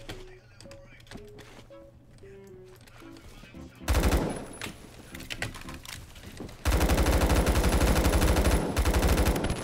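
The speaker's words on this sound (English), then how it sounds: "I shot you like a million times" Gunfire in Phantom Forces with a G36C in use: quiet clicks and game tones at first, then a loud stretch of rapid shots, then a dense, sustained automatic burst that stays loud to the end.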